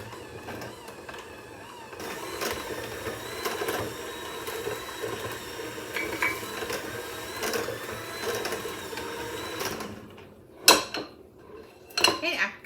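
Powdered sugar frosting for coconut cupcakes stirred by hand in a bowl, a continuous scraping and clinking of utensil against the bowl at moderate volume, ending with a few sharp knocks.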